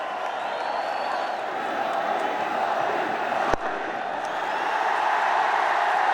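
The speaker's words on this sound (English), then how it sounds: "Big cheer, Julia." A large cricket stadium crowd at an India vs Australia ODI roars in a sustained, distant wash of cheering for Rohit Sharma's fifty, with a brief sharp knock partway through.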